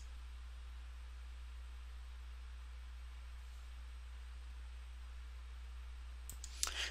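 A single computer mouse click lands near the end of an otherwise quiet stretch of faint steady hiss, sharp and close.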